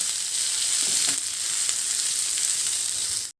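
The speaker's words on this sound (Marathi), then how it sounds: "हा जो चिरून घेतलेला पातीचा कांदा आहे हा यामध्ये टाकून घ्यायचा आहे." Chopped spring onions sautéing in hot oil in a pan, a loud, steady close-up frying hiss that runs unbroken and then cuts off abruptly, with no speech.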